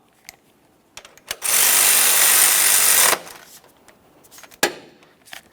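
A power tool snugs a 12mm-headed mounting bolt on a 2012-2015 Honda Civic 1.8L I4 during a serpentine belt kit job, in one steady loud whir of about two seconds, with small clicks and knocks before and after.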